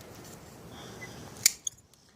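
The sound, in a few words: pruning cut on grapevine branch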